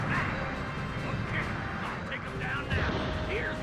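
A bazooka fires and a target explodes during a space battle in a Gundam video game, with heavy booming bursts within a dense, continuous wash of game noise and voices.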